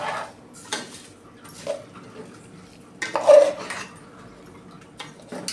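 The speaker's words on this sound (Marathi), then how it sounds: "आता तांदूळ आणि भाज्या आपण सर्व एकत्र मिक्स करून घेऊया।" Rice and vegetables being stirred together in a pot for veg pulao: scattered metal spoon scrapes and clinks against the pot, a few sharper knocks among softer shuffling, moderately close in a quiet kitchen.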